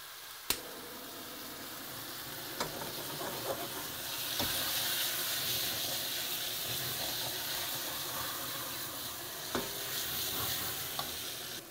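Roast beef sears in a hot pan with garlic, a continuous hissing sizzle that swells midway, punctuated by occasional sharp clicks and taps of utensils, without speech.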